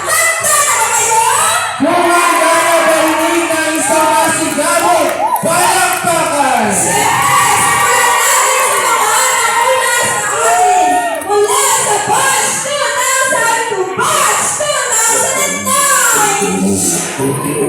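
A large crowd at a grand alumni homecoming celebration for batches from 2006 to 2020 shouts, whoops and cheers loudly and continuously, with excited voices calling out close by throughout.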